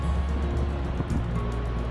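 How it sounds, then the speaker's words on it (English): Ocean surf on the Oregon coast rumbles steadily, a continuous low wash of waves close by with some wind across the microphone and no talking. "the slow pace, salty breeze and the waves."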